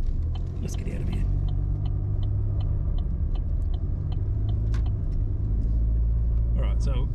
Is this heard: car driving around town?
yes